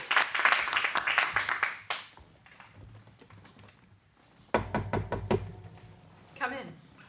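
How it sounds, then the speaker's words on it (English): Short burst of audience applause and cheering at an adult improv acting class, dense clapping for about two seconds, then fading into a quieter room with knocks and voices. "Let's get a round of applause."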